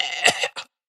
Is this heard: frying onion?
no